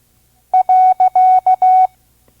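Dit-dah repeated three times: the Morse code period played on a clear, steady tone from an old ARRL 5-words-per-minute training course, alone and evenly spaced.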